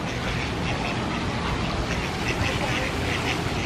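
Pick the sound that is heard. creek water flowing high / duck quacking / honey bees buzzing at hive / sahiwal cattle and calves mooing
duck quacking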